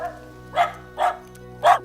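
A dog barks three times in quick succession, each sharp bark close and clear over a quiet low hum, in a scene from the film What Dreams May Come.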